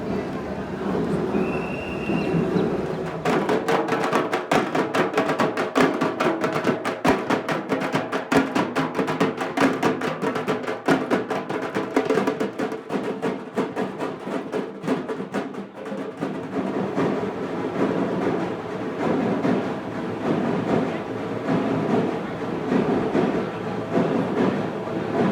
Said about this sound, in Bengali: আমাদের ট্রেন ছেড়েছিল অ্যাকচুয়ালি 1:04, 1:05 নাগাদ